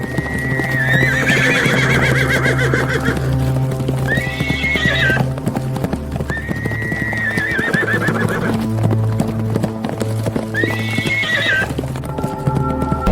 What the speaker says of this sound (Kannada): ಕುದುರೆಗಳ ಹಿಂದು ಓಡಿ ಹೋಗಲು ಪ್ರಾರಂಭಿಸಿದವು